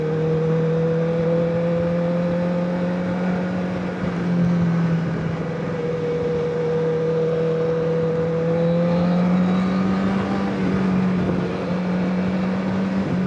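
Honda CBR1000RR Fireblade motorcycle engine held high in the rev range, a loud, steady close-up drone that wavers slightly in pitch as the throttle shifts, with strong wind roar throughout from a riding perspective.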